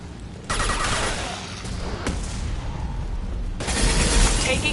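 Loud bursts of rapid weapon fire in a Mass Effect 2 firefight, sharp cracks and booms coming in intense stretches with a brief lull in between, over busy combat noise.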